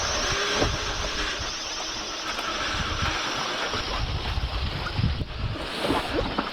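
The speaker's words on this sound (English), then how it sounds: "it's keeping us motoring along very slowly, but at least we're sailing" A sailboat motoring slowly at sea off Mexico's Baja coast, with a continuous low engine drone, rushing water and wind buffeting the microphone, all steady and fairly loud with no speech.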